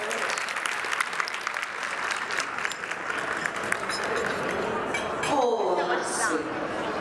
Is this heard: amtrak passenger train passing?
no